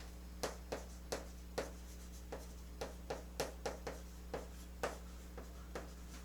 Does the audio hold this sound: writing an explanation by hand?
yes